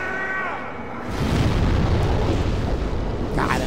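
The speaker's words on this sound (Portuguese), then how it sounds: "Deve ser explosão." Old King Allant's explosion attack in Demon's Souls bursts into a loud, rumbling blast that swells after a second and roars on, close and heavy.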